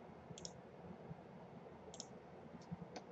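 A computer mouse clicks a handful of times, small sharp close taps spaced irregularly over a quiet background hum, no talk.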